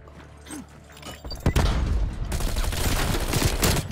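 Bullfrog submachine gun in Call of Duty: Black Ops Cold War firing in sustained bursts, a dense, loud rattling stream of rapid shots that starts after a few scattered sounds and runs steadily to the end.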